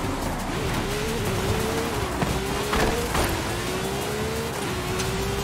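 A car engine from the racing game Forza Horizon 5 drones steadily and loudly, with pitch sweeping up through gear changes and brief tire squeal, heard alone without talk.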